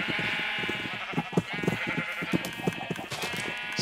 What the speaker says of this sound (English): There's a sheep sitting in there.